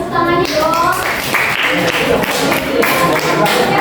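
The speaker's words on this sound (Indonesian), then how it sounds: "Kita apresiasi untuk kelompok 4. Beri tepuk tangannya dong." Students clapping for a classmate group in a school classroom, a short burst of close, dense hand claps mixed with voices.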